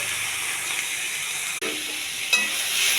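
Steamed flat beans with a pinch of chili and salt are stirred in a hot pan, giving a steady loud sizzle and hiss with a sharp scrape of the spoon partway through.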